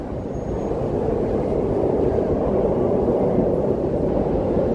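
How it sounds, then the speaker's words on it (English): A Chicago Red Line subway train gives off a steady, loud, low rumbling roar that runs unbroken with no voices. "That's the sound of the Red Line subway."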